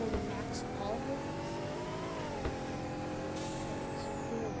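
A fully upgraded car in a video game with side-exit exhaust drones with a steady, loud engine tone throughout, its pitch shifting slightly as it revs, with faint background texture.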